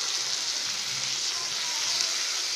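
Tomatoes fry in a pan for a soya chunks dish, giving a steady, close hiss and sizzle that runs unbroken with no voices.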